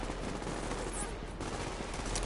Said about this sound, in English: But there is gunfire ahead.